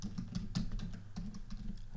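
Quick typing on a computer keyboard, a busy run of light clicks and taps at close range with no talk over it.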